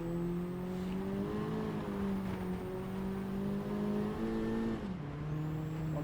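Steady engine drone from a 2022 Honda Civic Type R driven on a track, rising and dipping with throttle and shifts, heard from the cabin with no one speaking.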